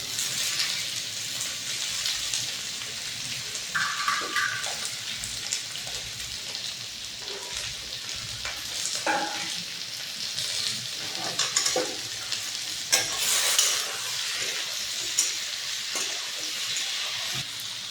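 Chopped potatoes and onions fry in a pan for a Bengali chorchori, a continuous close sizzle with repeated spatula scrapes and clinks as they are stirred.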